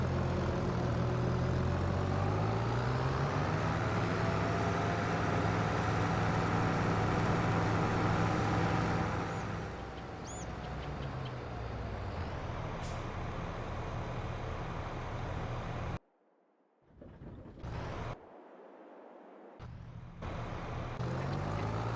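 A Kubota M8 tractor with a 200 horsepower engine and narrow wheels in Farming Simulator 22 runs steadily with a low engine drone. Its sound drops away partway through and then cuts in and out in short bursts.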